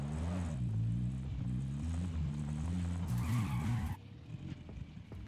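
A vehicle in Call of Duty Warzone drives with a steady droning engine hum that warbles in pitch, briefly joined by a hissing rush of wind before the engine note drops and thins out.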